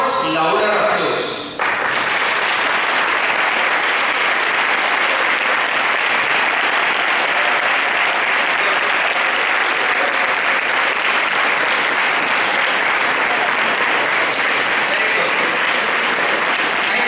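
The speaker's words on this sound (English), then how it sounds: "give them a much louder applause" A youth parliament audience breaks into loud, sustained applause that fills the hall steadily after a brief quiet start, dense clapping from a large crowd.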